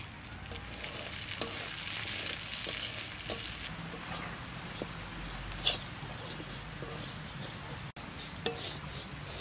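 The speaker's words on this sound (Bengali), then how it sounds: "মাছের তেলের মধ্যে ডাল ভাজা করে তেলটা বেশি আছে, ভাজতে হবে" Mung dal crackles and sizzles in plenty of fish oil, a moderate steady frying hiss with occasional stirring clicks and taps, no voices.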